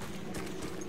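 Quick, steady hoof clops from a running horse in Battlefield 1, dense and continuous over a brief moment with no talk.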